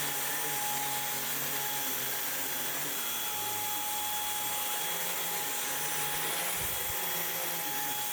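A Samsung Jet 75 cordless stick vacuum cleans a messy floor with a steady, high-pitched motor whine and airflow rush that holds at even strength throughout, with a brief lower bump near the end.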